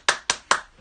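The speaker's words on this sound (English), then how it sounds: "Everybody give Bub a clap." Three sharp claps at an even rhythm, close and moderately loud, given as applause for Bub during a quiz, with no voices.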